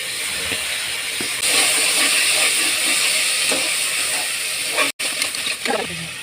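Tomatoes and ginger garlic paste fry in a pan for a country chicken curry, giving a steady loud sizzling hiss that runs throughout, with brief clatters of stirring.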